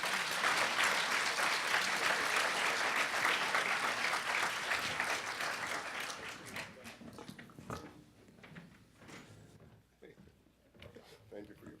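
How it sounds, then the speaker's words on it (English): Audience applause for Governor Chris Christie at a prisoner reentry conference, a dense, loud wash of clapping for about seven seconds that thins and fades out, leaving scattered claps and voices. "Can we have another round of applause?"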